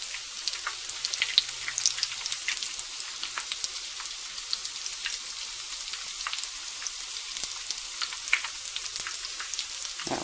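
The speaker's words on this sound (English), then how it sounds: "Okay, one side's brown. You're just going to flip it over." Corn fritters fry in a pan of hot oil, a steady crackling sizzle with fine popping bursts scattered throughout, close and even in loudness, with no voices.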